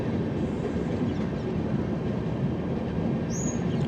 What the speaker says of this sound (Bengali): খুব হালকা হালকা ট্রেন এগোচ্ছে লাল সিগন্যালের ওপর দিয়ে, যার জন্য এখন খুব স্লো ট্রেন।